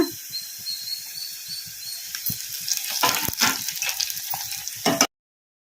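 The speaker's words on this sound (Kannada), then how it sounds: "ಒಣಮೆಣಸಿನ್ಕಾಯಿ ಕೂಡ ಒಂದ್ ಸ್ವಲ್ಪ ಫ್ರೈ ಆಗಿದಾವಲ್ಲ ಈಗ ಇದಕ್ಕೆ ಕರಿಬೇವು ಹಾಕೋಣ" Dried red chillies and curry leaves fry in hot oil, a steady close crackle and hiss that swells into louder spitting and popping before cutting off abruptly, with no voices.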